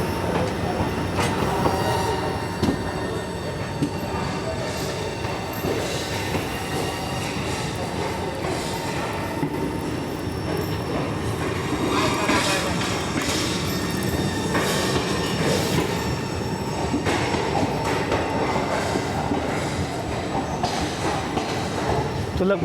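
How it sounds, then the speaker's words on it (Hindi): Rajya Rani Express 17611 pulling out of Partur station, heard from inside a 3AC coach: a steady rolling rumble with wheel squeal and clickety-clack of the rails, continuous and close throughout. "तो लगभग 5 मिनट के हॉल्ट के बाद हमारी ट्रेन निकल चुकी है परतूर से।"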